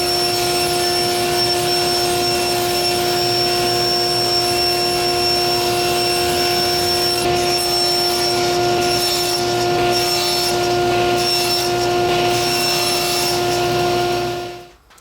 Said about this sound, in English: I'm going to cut a bunch of this 1/2-inch plywood into 5-inch by 7-inch pieces